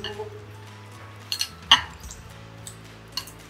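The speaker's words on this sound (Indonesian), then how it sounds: "Aduk-aduk." A spoon and fork stir and clink against a dish while Korean sweet and spicy crispy chicken is being prepared, a few sparse, sharp metallic taps spread through a quiet kitchen.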